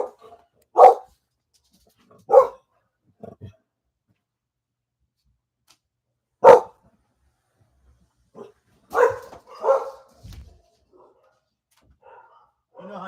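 Dogs barking in short, loud bursts spaced several seconds apart, single and double yaps with quiet gaps between, a few softer yips and whimpers near the end.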